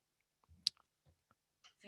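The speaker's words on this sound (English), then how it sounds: "I'm going to hit the home button here just to take me back to the main menu" An iPad home button pressed once, a single sharp click standing alone amid near silence, followed by a few faint soft taps.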